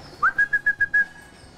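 A keeper at an aquarium gives a feeding-time whistle: six quick, clear, evenly spaced high pips close to the mic, then silence.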